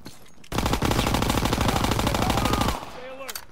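Sustained automatic gunfire in the Call of Duty WW2 video game, a loud rapid burst of shots lasting a couple of seconds before cutting off, with faint game sounds after.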